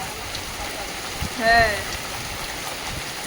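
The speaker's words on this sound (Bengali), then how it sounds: "আজকেই বৃষ্টিটা হচ্ছে দেখছি" Steady rain pours down outside during bad, unseasonable weather, a dense even hiss that fills the whole stretch, with a brief voice speaking once near the middle.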